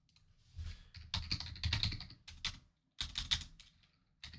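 Typing on a computer keyboard comes in quick, close bursts of clattering keystrokes, broken by short pauses, with no voices.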